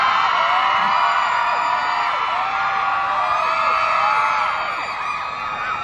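Fans scream at a debut showcase event for a boy band, a dense, sustained wall of high-pitched shrieks and cheers from a large crowd that carries on loudly throughout.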